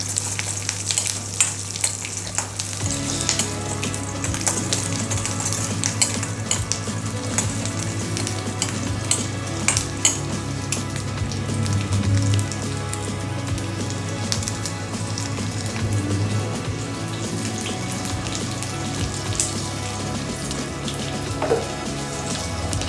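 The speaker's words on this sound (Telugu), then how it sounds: "కొద్దిగా వెల్లుల్లి కూడా వేసేస్తున్నాను. తర్వాత దీన్ని కొంచెం కలిపేసుకొని" Garlic sizzles loudly in hot oil in a pan, a dense constant frying hiss with a low steady hum beneath and scattered clinks and scrapes from stirring.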